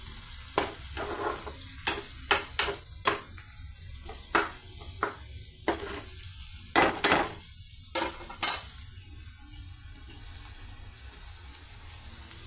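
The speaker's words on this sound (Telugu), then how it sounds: "పచ్చిమిర్చి పీసెస్తో ఈ విధంగా ఫ్రై అవుతున్నాయండి" Green chilli pieces frying in hot oil make a constant high hiss, broken by repeated scraping strokes of a spoon stirring in the pan, with no speech.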